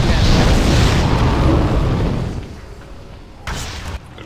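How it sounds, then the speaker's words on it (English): Heavy booming cannon blasts in a video game roar and rumble, then fade into a lower din before a short, sharp burst near the end. "Cannon's on the way!"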